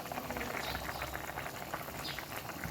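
Curry with green chillies bubbling in a pot, a soft continuous burble of small pops and simmering liquid, close but quiet, with no talking.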